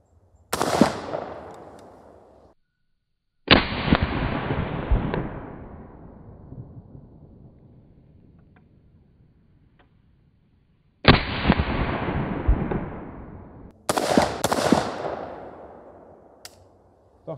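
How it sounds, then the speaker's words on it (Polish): Four loud, close gunshots from a sawn-off Howdah shotgun fired at a target at a range of several metres, each a sharp blast followed by a long rolling echo that fades out over a few seconds. "oddam jeszcze kilka strzałów celując tutaj"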